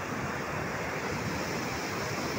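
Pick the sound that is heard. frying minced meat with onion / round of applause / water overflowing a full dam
water overflowing a full dam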